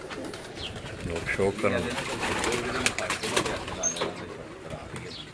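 Pigeons coo steadily from a rooftop in Gujrat, their soft repeated calls sitting just behind close, continuous conversation between people.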